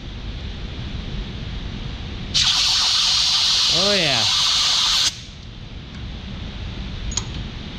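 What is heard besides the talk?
compressed air nozzle blowing out waterjet feeder tube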